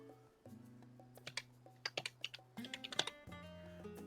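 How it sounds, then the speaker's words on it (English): Steady typing on a computer keyboard during a Final Fantasy XIV crafting stream, with irregular clusters of clicks over a constant tonal game-music background. "make sure I'm typing it in right"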